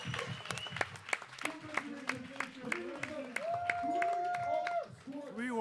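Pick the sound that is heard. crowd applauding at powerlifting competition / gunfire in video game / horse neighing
crowd applauding at powerlifting competition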